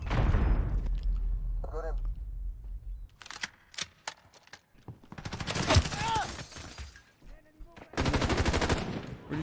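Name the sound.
gunfire in a video game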